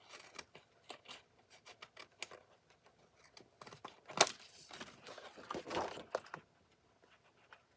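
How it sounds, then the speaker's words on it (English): Scissors trimming scrapbook paper at close range, quiet irregular snips and crinkling paper rustles, with a few louder cutting bursts and no talk. "These are not the best scissors."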